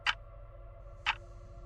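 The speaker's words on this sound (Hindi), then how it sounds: "लाइब्रेरी में सन्नाटा इतना था कि घड़ी की टिक टिक आवाजें" Two sharp ticks about a second apart from a clock in a quiet, empty library at night, crisp and alone over a low steady hum.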